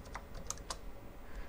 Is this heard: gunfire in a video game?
no